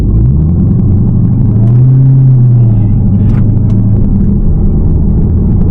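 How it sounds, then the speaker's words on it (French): A Dodge car accelerates from a rolling start on an airstrip, its deep engine rumble loud and steady throughout, with the engine note swelling briefly near the middle before settling back. "Bon allez, c'est parti, je suis dans la Dodge, départ lancé."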